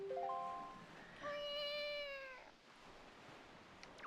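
Link meowing like a cat in Zelda: Wind Waker HD, with two clear, bright meows close together, the second longer and wavering, over a soft background hiss.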